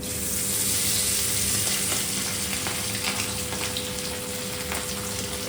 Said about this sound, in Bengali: গরম হয়ে গেছে আর মাছটা দিয়ে দিলাম